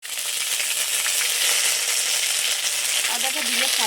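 Ginger and salt dropped into hot oil with fried whole cumin and dry spices crackle in a loud, continuous hiss, with scattered pops and a brief utensil clink toward the end.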